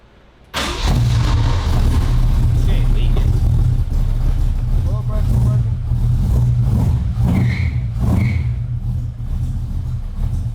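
A CJ5 Jeep engine cranks and catches, then runs with a loud, rough rumble and a few revs, while voices call out briefly over the running motor.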